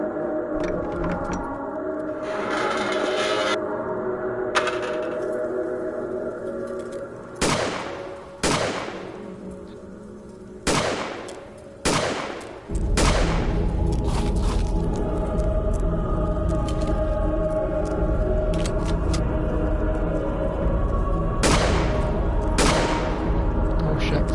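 Gunfire at enemies in the video game The Glass Staircase, several loud separate shots cracking out over a steady droning game score, with longer gaps between some of them.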